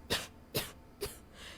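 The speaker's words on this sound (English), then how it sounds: "That cough doesn't sound good." A game character in Starfield coughs three times in a row, roughly half a second apart, each a sharp close burst with a fainter rough breath trailing at the end, with no talk.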